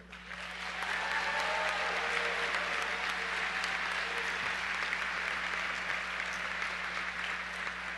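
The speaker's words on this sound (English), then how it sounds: "we'd like to recognize and applaud the graduates' support system, family, friends, faculty, and staff" Sustained applause swelling up from a commencement ceremony crowd honouring graduates' families and staff, steady distant-sounding clapping in a large hall over a low constant hum.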